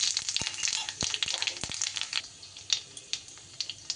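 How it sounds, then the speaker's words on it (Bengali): Panch phoron five-spice and a little black cumin crackle and sizzle in hot mustard oil, with sharp scattered pops over a steady hiss, close and moderately loud. "তেল গরম হয়ে গেলে এখানে আমি ফোড়নে দিয়ে দিচ্ছি, দেখুন 5 ফোড়ন, আর তারই সাথে অল্প একটু কালো জিরে।"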